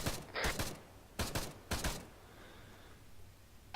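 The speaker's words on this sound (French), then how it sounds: "il tire à la tour à gauche" Bursts of gunfire in the military video game ArmA 3: three separate volleys of quick shots in about two seconds, moderately loud, then a fainter lingering tail and one last burst at the end.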